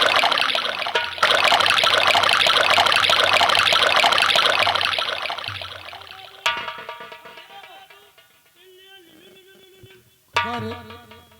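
Liquid pours steadily into a glass for several seconds in a folk nautanki stage performance, the stream trickling loudly and continuously before tapering off, followed by a few scattered clinks and small knocks against a quiet background.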